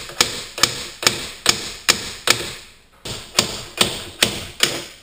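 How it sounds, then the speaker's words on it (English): A brass hammer taps lightly at a sight on a VEPR rifle barrel, ten or so sharp, evenly spaced metallic taps close up, with a brief pause midway through the series. "Now to finish the job, I'm just gonna take a brass hammer,"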